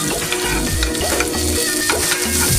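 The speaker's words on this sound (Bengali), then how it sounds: "এখন এটা ভালো করে আমি ভেজে নেব।" Drumstick (moringa) leaves with chilies fry in a pan, a close, loud crackling sizzle running continuously, broken by a few thumping stirs.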